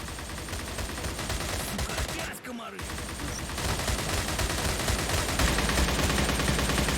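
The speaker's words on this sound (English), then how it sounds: "Mind the gunfire, everyone" Rapid bursts of gunfire crackle almost nonstop, with a brief lull partway through before the shooting resumes, loud and dense.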